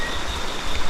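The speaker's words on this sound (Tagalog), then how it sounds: "Sobrang napakalakas yung ulan." Heavy rain pouring down in a dense, continuous hiss, loud and close, with no voices.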